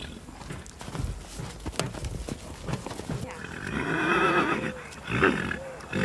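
A horse neighs loudly with a drawn-out whinny in the second half, following a run of hoof clip-clops and movement sounds, with a person talking over parts of it.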